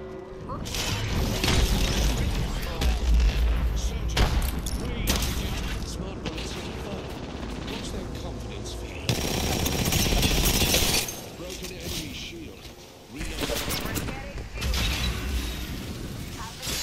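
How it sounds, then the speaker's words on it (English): Gunfire rattles through a round of the video game Apex Legends, bursts of shots and impacts mixed with mechanical clicks and a sudden boom, while people talk over the action. "Getting shot at."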